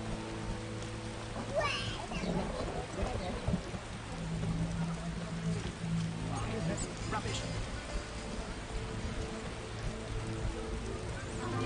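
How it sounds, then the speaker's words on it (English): Steady rain falls across a medieval town district in The Witcher, a continuous wash of patter and drips with muffled voices and a few brief splashes mixed in. "When will this rain stop?"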